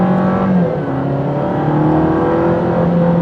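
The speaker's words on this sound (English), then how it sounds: "Wow, it's very quick revving too." An Alfa Romeo Giulia Ti engine revs hard and quickly from the cabin, its loud, steady engine drone climbing in pitch through rising gear pulls with no talking.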